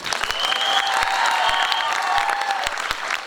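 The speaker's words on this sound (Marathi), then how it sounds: "टाळ्या होऊन जाऊ दे राव" Audience applause fills a live Marathi comedy stage show, with dense, steady clapping from a crowd that holds at full strength throughout.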